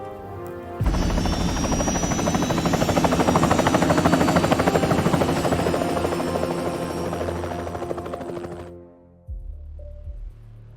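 Loud helicopter rotor chop and turbine whine in the video game Hitman 2, Miami level, holding steady for several seconds before cutting off abruptly, followed by a short low rumble.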